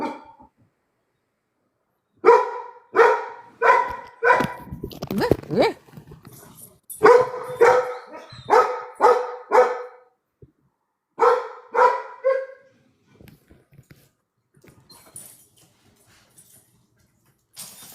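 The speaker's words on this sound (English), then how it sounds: "The dog's name is Ozzy" A dog barks in repeated clusters of sharp, loud barks separated by short pauses over about eighteen seconds, trailing off into faint sounds near the end, with no talk.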